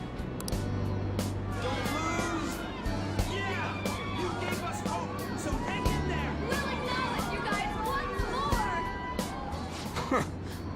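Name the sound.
crowd voices of humans in the video game Persona 5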